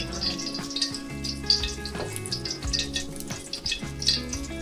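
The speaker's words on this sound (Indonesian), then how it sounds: "Kita goreng sedikit aja teman-teman ya." Steady sizzling of food frying in hot oil, with a few soft clicks of a utensil stirring in the pan, close and continuous.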